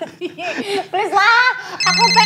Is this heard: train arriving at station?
no